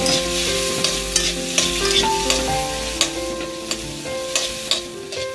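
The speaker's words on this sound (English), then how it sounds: "Make them go a stir fry." Onion, tomato, garlic and pepper stir-frying in a pot: a continuous loud sizzle with regular scraping strokes and clinks of the utensil, close up, with no voices.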